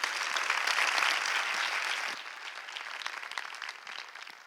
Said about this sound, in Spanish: un aplauso, por favor, para Natalia